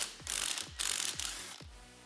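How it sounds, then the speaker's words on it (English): A ratchet wrench loosening a bolt on a BMW E46 sway bar bracket, four quick clicking bursts in an even rhythm, close and fairly quiet, with no talking. "I'm going to take off this bolt here so we can reuse it."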